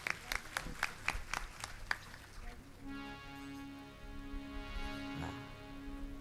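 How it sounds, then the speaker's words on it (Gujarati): Audience at a Shrimad Bhagavat saptah katha claps in a short burst of scattered applause that fades after about two seconds, followed by a steady sustained tonal sound. "આપણે બધા ખૂબ તાળીઓથી વધાવીશું."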